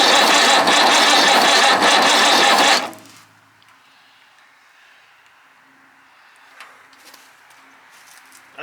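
An old Perkins diesel engine, unused for many years, runs loud and steady for about three seconds, then cuts out abruptly, leaving only faint background noise and small clicks.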